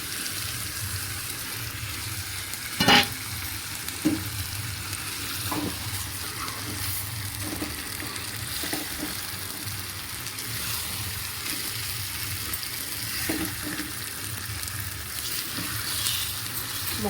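Fish pieces coated in turmeric, salt and chili powder fry in a pan for Andhra-style fish curry, giving a steady close sizzle throughout with a sharp utensil clack near the start and a few soft knocks, no talking.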